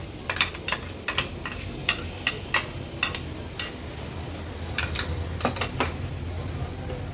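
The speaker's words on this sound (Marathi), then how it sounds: "ते वाटण परतून घेणार आहोत त्यासाठी चमचाभरच तेल घ्यायचे" Ground masala paste being sautéed in a spoonful of oil, a soft steady sizzle punctuated by repeated sharp clinks of a spoon stirring against the pan, fairly close and without talk.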